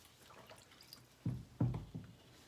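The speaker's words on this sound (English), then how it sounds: "all I do then is just put the fleece straight into the cold water" Wool fleece pushed into a bucket of cold water on a farm before scouring, giving three soft sloshing, dripping splashes in close succession, quiet and near, with no talking.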